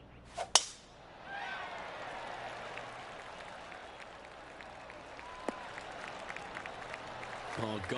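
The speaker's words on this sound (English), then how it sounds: "Oh, golf clap." Polite scattered crowd clapping at a golf tournament in the video game Golf 2K23, a soft steady patter of applause under a commentator's voice, after a sharp strike near the start.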